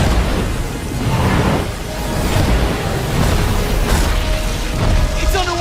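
Bombs dropped in a video game burst in heavy, rumbling booms that roll over one another under dense, noisy game action.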